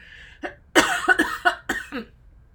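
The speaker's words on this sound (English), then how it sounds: "I might do a little cough, so hold your ears." A few close coughs and throat-clearing hacks in a short uneven cluster, moderately loud against a quiet room.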